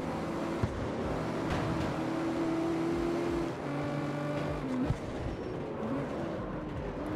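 A car engine drones steadily in the CarX Street racing game, holding a constant tone with shifts in pitch as it drives, with no talking over it.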